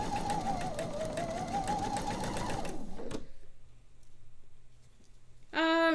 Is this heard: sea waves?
no